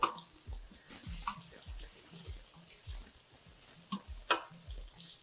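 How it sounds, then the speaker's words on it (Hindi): Seekh kebabs frying in oil in a karahi make a soft, steady sizzle with faint stirring scrapes and clinks, heard close up and quiet. "यहाँ हमारे कबाब तकरीबन फ्राई हो चुके हैं"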